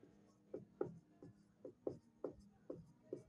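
Pen or pencil writing out a Class 10 arithmetic progression maths solution: quiet, rhythmic strokes and taps repeating about every third of a second, faint and close, with no talk.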